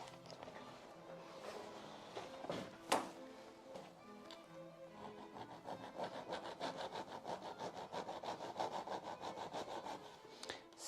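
Hand sharpening of an auger bit from the bottom with a file, a quiet, steady series of rapid rasping strokes with a sharp knock partway through, close but faint.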